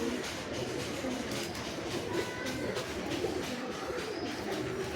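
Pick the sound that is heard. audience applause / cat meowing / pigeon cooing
pigeon cooing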